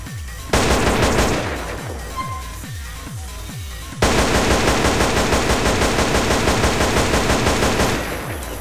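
Rapid automatic M4 rifle fire from a Postal 2 weapon pack in GTA San Andreas, a loud burst, a short pause, then a longer sustained stream of close, crackling shots.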